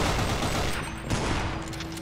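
Gunshots in the horror game Afraid of Monsters, a close, dense rattle of rapid fire that fills about two seconds and thins slightly toward the end.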